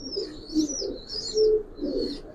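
Giribaz pigeons cooing in a loft, soft low coos repeating in a loose rhythm under high chirping and twittering, fairly faint and close with no talk.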